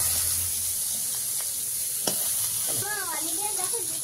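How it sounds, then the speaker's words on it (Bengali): Koi fish frying in a wok, a steady close sizzle with a sharp crackle near the middle, and a voice talking briefly toward the end. "পরিমাণ মতো একটু লবণ দিয়ে মাছগুলো ভেজে নেব।"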